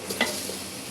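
Chicken and onions fry together in a pan: one quick scrape of a stirring utensil over a faint, steady sizzle, brief and close.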